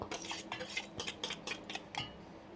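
Soft, repeated clinks of a metal spoon tapping against a mixer jar as spices are tipped in, close by and quiet, in an irregular rhythm.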